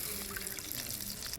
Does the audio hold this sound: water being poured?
yes